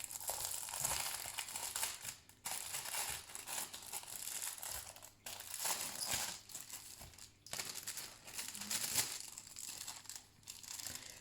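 Plastic packaging crinkles and crackles as a canvas is unboxed, loud and close in long bursts with brief pauses between them.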